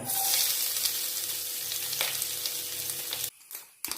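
Dense, steady sizzling and crackling of mustard seeds popping in hot ghee for a mutton curry, loud and close, cutting off abruptly near the end.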